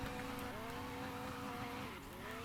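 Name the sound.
car drifting with tire squeal in video game Prodigy Drift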